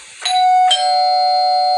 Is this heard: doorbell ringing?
yes